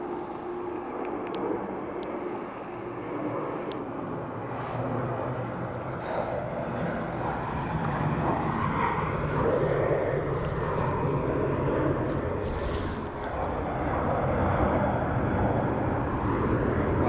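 Jet aircraft at Dublin Airport, a broad sustained engine roar that swells and rumbles for the whole stretch, heard from a distance outdoors with a faint breezy background.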